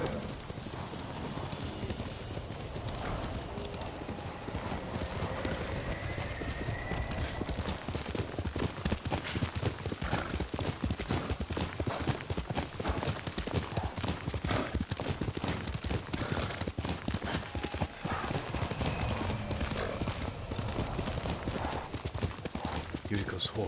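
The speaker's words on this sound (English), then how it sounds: "Yuriko's horse. She can't be far." Horse in the Ghost of Tsushima video game, hooves clip-clopping in a steady, continuous rhythm with an occasional whinny, under a busy mix of voices and game ambience.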